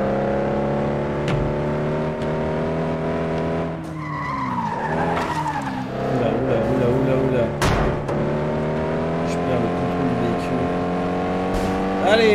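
A race car in FlatOut 2 drives hard, engine droning with steady harmonic whine, shifting pitch through corners with tire skids and screeches, while someone talks over the game.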